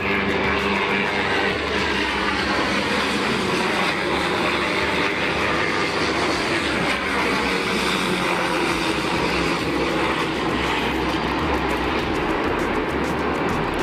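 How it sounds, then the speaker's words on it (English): A loud, steady roar of heavy rotor and engine noise holds without pause, dense and close, as Black Hawk military helicopters fly low over downtown Chicago. "2 helicopters flying above, or flying through downtown Chicago"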